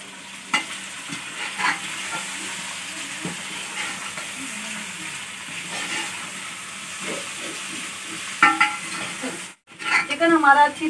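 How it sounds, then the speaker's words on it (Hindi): Chicken frying and being stirred in a pot for biryani, with a steady sizzle and hiss, intermittent stirring scrapes, and a brief louder burst near the end. "चिकन को भी अच्छी तरह से फ्राई कर लेंगे।"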